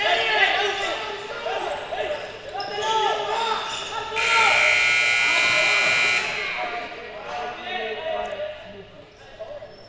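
An end-of-period buzzer sounds at a men's field hockey match between Argentina and Canada, a loud flat tone lasting about two seconds midway through, amid arena noise and commentary.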